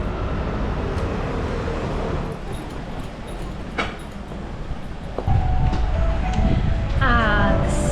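A Seoul subway train rumbles and rattles at a station, a steady loud rolling roar with clickety track noise, swelling heavier toward the end as tonal whines and chimes rise over it.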